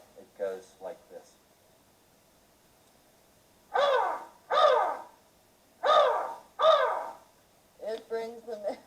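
A man imitates a crow with his voice, giving loud, harsh caw-like calls in two pairs after a few soft short sounds, then a further burst of calls.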